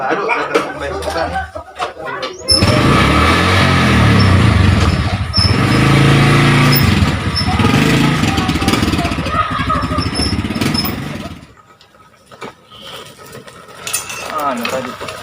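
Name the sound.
motorcycle arriving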